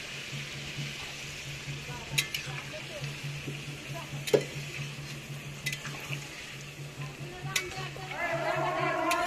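Mutton curry simmers in a pot after water is added, with a soft steady sizzle, a low hum, and scattered light knocks of stirring. The bubbling grows louder near the end.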